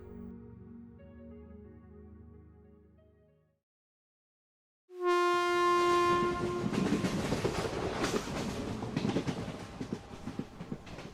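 A train passing a station, heard as a sound effect: a low rumbling fades to silence, then a loud, sustained horn blast bursts in, followed by close, heavy rolling clatter of wagons that continues to the end.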